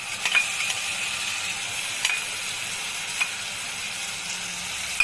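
Spices go into a hot pan of fried prawns, potatoes and onions, making a continuous frying sizzle with a few sharp utensil clicks at irregular intervals.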